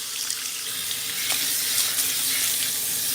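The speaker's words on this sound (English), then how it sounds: "we're rinsing off our Soothe and Balance" A salon sink tap runs as hair is rinsed, giving a steady hissing rush of water, close and even, with slight splashing changes as the flow hits the scalp.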